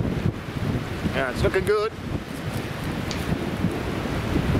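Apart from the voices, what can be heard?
wind blowing outdoors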